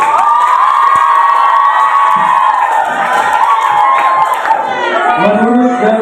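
A school audience of students at a student council election event cheers and shouts loudly in a sustained crowd roar, with high children's voices rising and falling close by.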